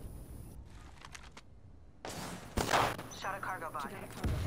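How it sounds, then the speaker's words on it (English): Gunfire in the Apex Legends video game aimed at a distant cargo bot: a few sharp game shots in quick bursts over a game soundscape, with a voice speaking faintly underneath. "When I see a cargo bot that's really far away, I like to shoot him"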